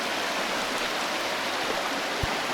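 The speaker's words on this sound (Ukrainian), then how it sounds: "Ой, друзі, яка річка, яка річушка" A small mountain river in the Carpathians in spring rushes steadily over stones, a dense, even broadband gurgle and hiss filling the whole clip with no voices.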